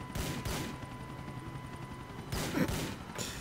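Gunfire in Grand Theft Auto IV: two quick bursts of shots near the start, then a louder flurry of automatic fire toward the end, sharp and fairly close, with no talking.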